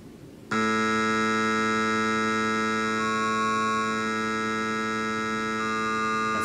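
A steady buzzing synthetic vowel source tone with one isolated harmonic brought out from the stack sounds as a bright, sustained hum that starts abruptly after a half second of faint noise and holds evenly with no talk.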